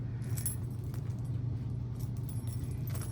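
Small metal Coach bag charms jangle and clink in quick, irregular bursts against a steady low hum, fairly close and with no voices.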